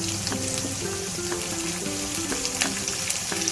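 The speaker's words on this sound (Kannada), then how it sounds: "ಎಲ್ಲ ಫ್ರೈ ಮಾಡ್ಕೊಳ್ಳೋಣ" Ginger, coriander and mint fry in a pan for a chicken gravy, giving a steady close sizzle with soft crackle that runs unbroken under a melodic background.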